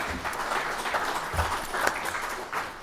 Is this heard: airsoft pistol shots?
no